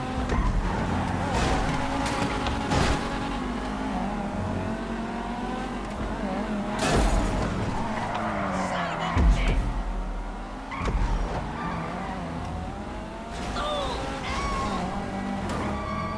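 Cars in GTA 5 Online drive with a continuous engine drone that rises and falls, broken by repeated tire squeals and skids plus occasional thuds, loud and busy throughout.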